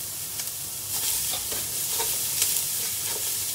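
Fatty meat fries in a pan as the first step of cooking Bicol laing, giving a steady, close sizzle and crackle with faint stirring scrapes throughout and no voices.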